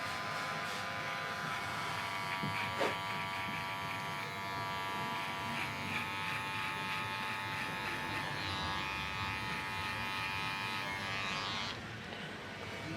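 Electric trimmer buzzing steadily through a giant beard, a continuous close whine that shifts slightly as it moves through the hair, with faint talk underneath.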